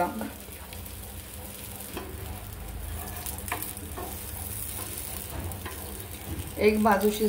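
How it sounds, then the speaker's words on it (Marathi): A mixed dal dosa sizzles steadily as it roasts in oil on a pan, a continuous close frying hiss with faint scraping and a louder stir near the end. "हे बघा, आपली एक बाजू भाजत चालली आहे।"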